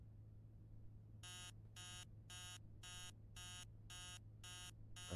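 A video-game alarm clock in Emily Wants to Play Too goes off at 3 a.m., sounding as a steady series of about eight evenly spaced electronic beeps over a low constant hum.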